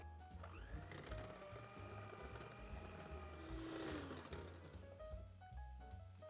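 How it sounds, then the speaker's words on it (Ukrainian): An electric hand mixer whips cream cheese, cream and powdered sugar toward stiff peaks in a bowl, giving a steady, faint motor whine with a pitch that rises and falls as the beaters move. "У тарілку відправляємо вершковий сир і вершки додаємо цукрову пудру і збиваємо міксером до стійких піків."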